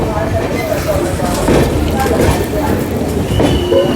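Amrit Bharat Express train arriving at New Delhi station, a steady rumbling roll with wheel and carriage noise under muffled onboard voices throughout.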